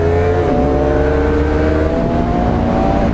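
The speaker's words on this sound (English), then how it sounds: "That's clutchless shifting." Car engine revving up, dipping briefly as it shifts from first to second gear without the clutch, then pulling again in a steady, close drone.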